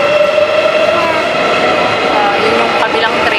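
A train runs at a rail station near Incheon terminal, a loud steady rumble with a sustained tonal whine and faint clatter, continuous for the whole stretch.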